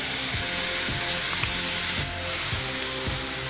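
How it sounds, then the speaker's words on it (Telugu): Tomato pieces added to browned garlic fry in a pan on a Telugu cooking show, giving a loud, steady, close sizzle with faint periodic clicks underneath and no speech. "ఈ టమాటా ముక్కలు కూడా వేసి కొంచెం ఫ్రై చేసుకుందాం."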